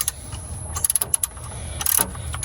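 A wrench tightening the power steering belt on a 1979 Ford F100, heard as a quick series of close metallic ratchet clicks and clanks in a quiet garage.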